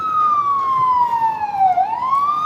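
A loud wailing emergency vehicle siren sweeps slowly down in pitch, then rises again, sustained and close with no talking, on a street in Queens, New York.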